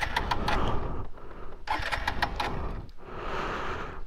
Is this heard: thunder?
no